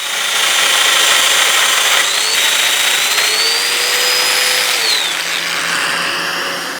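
A power drill drives screws into a wooden mobile bench, a steady loud whirring that runs unbroken with slight pitch rises as the screws bite.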